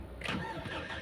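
A car engine cranks briefly and catches, a short faint starter whir turning into a low rumble.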